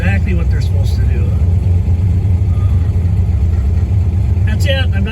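A car engine with solid lifters running steadily, a loud continuous low rumble that surges slightly, with brief bits of a voice over it.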